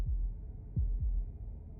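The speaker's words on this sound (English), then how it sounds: "That was the sound of a heartbeat, followed by another, and another." Low, thudding heartbeats from the horror video game Slay the Princess, three deep pulses spaced irregularly over a soft hum, close and without voices.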